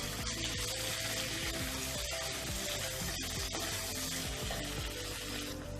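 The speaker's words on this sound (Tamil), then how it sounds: "இப்போ தக்காளி வந்து நல்லா வதங்கட்டும்." Sliced tomatoes cook in a pan after ginger-garlic paste for chicken masala curry, giving a constant dense sizzle and hiss at low level, with light intermittent stirring scrapes and no voices.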